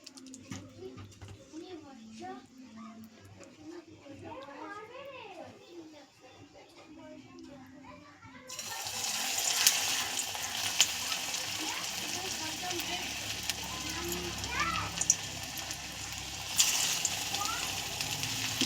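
Banana flower fritters drop into hot oil, and a loud, steady hiss of frying suddenly swells up close and holds to the end. Someone talks over quieter kitchen sounds before the sizzle begins.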